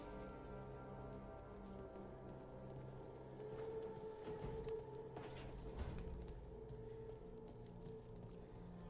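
Steady rain patters over a low ambient drone in Dragon Age: The Veilguard, with a few soft thumps like shutters closing and a brief swell of noise midway; no voices.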